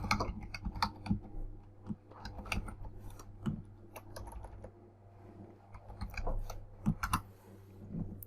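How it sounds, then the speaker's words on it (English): Keys clatter on a computer keyboard in uneven bursts of quick, close taps, with brief pauses between words and no one talking. "So I'm just going to type that in right here."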